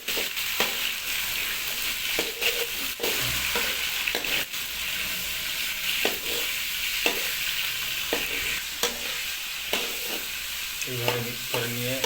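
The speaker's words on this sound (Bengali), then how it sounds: "তো এবার আমাদের সব উপকরণগুলিকে একসঙ্গে মিক্স করে একটু ফ্রাই করা হবে।" Carrot dish ingredients being mixed together and fried, with a continuous close sizzle broken by repeated spatula scrapes and stirs at an uneven rhythm throughout.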